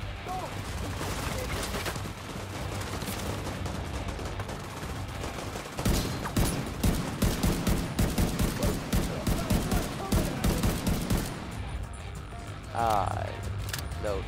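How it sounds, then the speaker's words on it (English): A shotgun fires in the shooter game The Division 2, with a run of loud, evenly spaced blasts in the second half over steady game ambience and earlier background clatter. "I'm shooting my shotgun ammo for that guy because it did a lot of damage to him"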